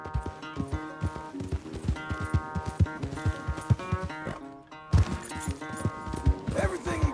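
A horse gallops in Red Dead Redemption 2: close, steady, rapid hoofbeats drum in an even rhythm, layered over sustained musical tones that carry throughout.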